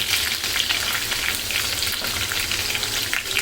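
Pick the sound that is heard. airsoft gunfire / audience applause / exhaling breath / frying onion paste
frying onion paste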